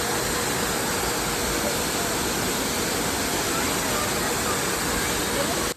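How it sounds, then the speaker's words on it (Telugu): Waterfall at Wayanad, heard as a loud, dense roar of falling water that stays steady and close throughout. "సో ఇంక వెళ్ళే దారిలోనే మాకైతే ఒక వాటర్ ఫాల్స్ కానీ వచ్చిందనమాట."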